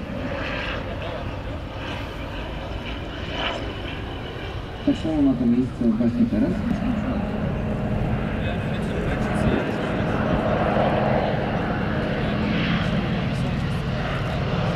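Antonov An-2 and Aero AT-3 aircraft fly in formation at an airshow, their propeller engines giving a steady droning roar with a louder swell passing by, under continuous commentary from an announcer.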